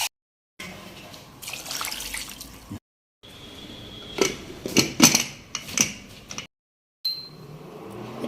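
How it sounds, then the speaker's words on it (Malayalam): Water splashes into a pressure cooker holding Kerala sambar vegetables, arriving in several broken pours with dripping and clattering between stretches of silence, close by with no talk. "ആവശ്യത്തിന് വെള്ളം ഒഴിച്ച് അടച്ച് വേവിക്കാം."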